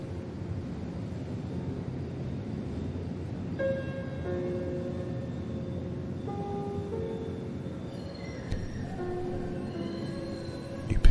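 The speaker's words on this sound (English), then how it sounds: "Your train has arrived." A train pulls into a station with a low rumble, squealing brakes and high metallic tones sounding over steady mechanical noise, fairly distant.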